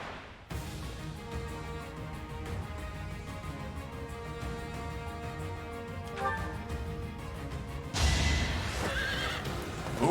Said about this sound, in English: Oh yeah, oh, he's on a horse.